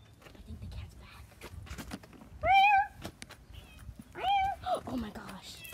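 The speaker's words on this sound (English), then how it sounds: "I think the cat's back." A cat meows twice, clear and nearby, with a person talking quietly before and between the meows.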